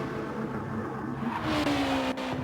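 A race car engine in a GT racing game, from a Kyoto GT 170 km race, hums with a steady mid-pitched drone that climbs in pitch as it accelerates, continuous and fairly close.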